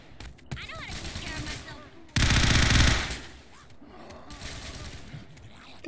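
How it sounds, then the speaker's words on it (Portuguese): Gang shootout gunfire in GTA San Andreas: bursts of rapid automatic fire rattle in and out, with one loud sustained burst mid-clip, while a voice talks and gasps over it. "Tá tendo tiroteio das facções aqui"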